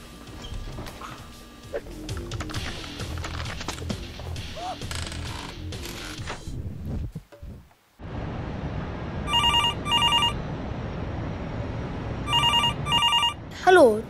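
A home telephone rings several times in repeated bursts before the answering machine picks up, preceded by muffled background noise and a brief silence, with a voice speaking in German near the end.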